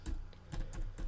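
Computer keyboard keys clatter in a quick run of close, crisp clicks while a command is entered in a DOS window during a MySQL database session.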